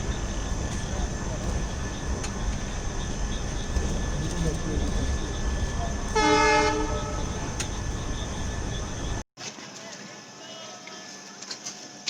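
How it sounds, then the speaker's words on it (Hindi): Vasco da Gama express train rolling into Munirabad station, a steady loud rumble of wheels and carriages with a short horn blast around the middle, then the noise drops abruptly to a quieter hum. "Approaching Munirabad railway station."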